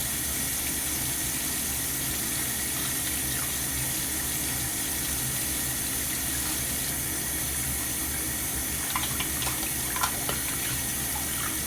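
A home bathroom sink faucet runs steadily and loudly while hands and the tap handles are rinsed, a constant rushing stream with a few small splashes near the end.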